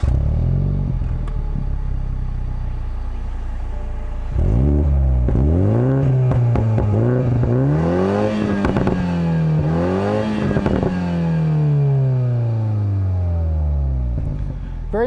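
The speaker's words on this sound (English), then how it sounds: "I wasn't expecting the popping noises" A 2021 Toyota Supra 2.0 four-cylinder with a polished exhaust tip idles, then revs repeatedly in rising and falling sweeps, loud and close, with crackling pops on the overrun between revs.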